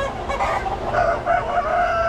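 Roosters on a poultry farm crowing, overlapping drawn-out calls against a dense background of clucking fowl, close and loud with no talk.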